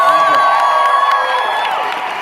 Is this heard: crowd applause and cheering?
yes